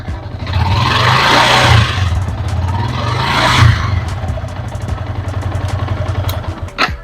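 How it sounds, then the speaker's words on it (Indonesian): A Yamaha Jupiter MX King motorcycle engine runs close by, a steady low idle with two brief throttle blips swelling louder before settling back to an even chug. "nih, suara mesinnya kayak gini nih."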